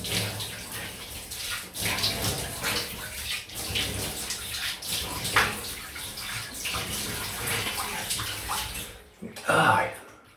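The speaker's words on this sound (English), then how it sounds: "I'll rinse off in the bathtub." Running water splashes and gurgles into a bathtub as someone rinses off after a straight razor shave, fairly close, with uneven surges and a louder burst near the end.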